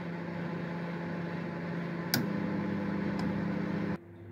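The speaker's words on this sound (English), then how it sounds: "put this cheese fondue sauce into this little microwave container and pop it into the microwave" A small microwave oven heating cheese fondue sauce in a microwave container, giving off a steady close hum with two short clicks before the hum cuts out abruptly near the end.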